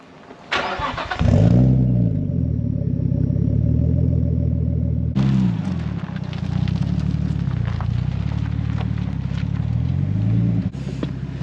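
Nissan R33 GTS-T Skyline, a Japanese car, cranks and fires with a sharp burst, then settles into a loud, close, lumpy idle; the engine cuts and restarts with another crank midway, then idles again.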